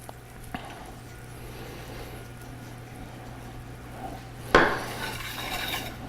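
Herbs, peppercorns and salt are mixed in a dish for a pork roast, giving a quiet run of soft stirring and scraping over a steady low hum, with one louder clatter near the end.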